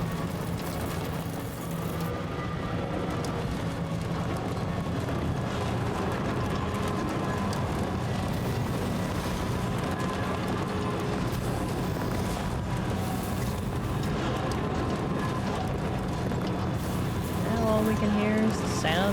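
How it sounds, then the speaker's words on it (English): A Cybertruck rolls over a bumpy dirt path in Death Stranding 2, a steady low rumble and gritty crunch running continuously throughout at moderate loudness. "We can hear is the sound of the Cybertruck crunching along the dirt path."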